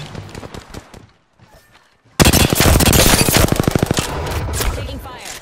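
Video game gunfire erupts after a brief lull, a loud rapid automatic burst of closely spaced shots that continues to the end, with faint talk before it starts.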